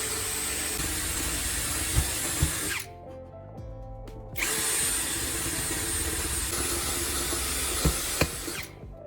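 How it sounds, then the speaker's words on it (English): A power drill whirs loudly and steadily while drilling small holes in a metal can, cuts out for just over a second, then starts up again and keeps running. "Use a drill to make several small holes around the sides so heat can escape evenly."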